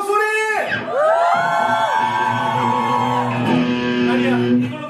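Girls in a concert crowd scream and cheer together in a loud, sustained, high-pitched roar at a Korean singer's curtain-call encore performance. The shrieks swell and hold for several seconds.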